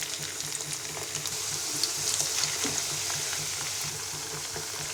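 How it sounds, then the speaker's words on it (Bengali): Parboiled potato strips for French fries deep frying in hot oil, a steady, dense sizzle and bubbling at moderate level throughout, close by and without speech. "এবার ব্রাউন কালার করে ফ্রেঞ্চ ফ্রাইগুলো ডুবো তেলে ভেজে নিব।"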